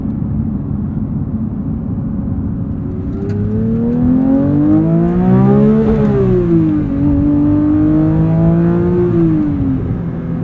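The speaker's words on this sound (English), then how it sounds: "Pretty wicked rev limiter there too." A 2022 Porsche 911 GT3 with a manual gearbox revs hard from inside the cabin, its engine note climbing steadily to a sharp peak near the limiter, dipping and rising again before cutting off. No one speaks.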